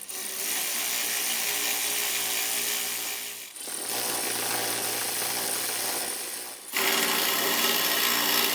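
Power tool tightening nuts on hardware during a Pacbrake air bag install on a 2024 Ford F-series truck, a steady loud whirring drone running nearly continuously with two brief pauses, no talking.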